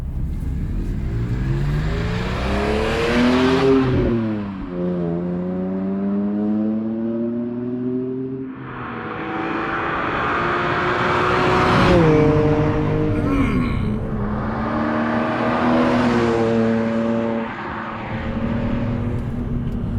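A BMW E46 M3 drives by with its engine rising and falling through several strong revving sweeps, loud and close, with shifts between pulls and steady road noise underneath.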